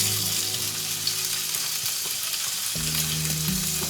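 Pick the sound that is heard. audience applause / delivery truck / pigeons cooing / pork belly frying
pork belly frying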